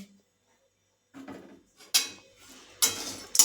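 Clinking and scraping bursts, like roasted chickpeas stirred in a pan during dry roasting with cardamom, come in a few sharp, close clusters separated by quiet gaps.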